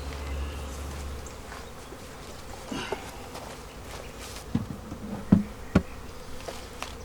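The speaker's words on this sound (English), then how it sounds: "I'm going to put those bees back in this hive" Honeybees buzz around an opened hive during a spring split, a steady near drone of many insects, with scattered knocks and thumps of frames and equipment breaking through in the second half.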